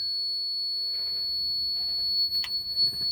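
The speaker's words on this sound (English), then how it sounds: "Has alarms for low air because it doesn't have any air on right now." A low-air warning alarm on an M923A1 military truck sounds as a steady, piercing high-pitched tone, continuous and loud throughout, with faint clatter and engine noise beneath it.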